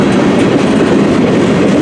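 A CN M384 northbound freight train with flatbed cars passes close by in Port Huron, Michigan. Its loud, dense rumble carries a rapid clickety-clack of wheels over rail joints throughout.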